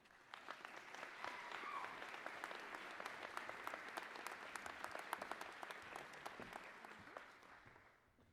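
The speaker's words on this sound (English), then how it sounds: "Please join me in a round of applause for your student speaker this evening, Student Government President Savannah Baker." Fall commencement audience applauds student government president Savannah Baker as she comes up to speak, a broad, sustained wash of clapping from a large crowd that holds steady and then fades out.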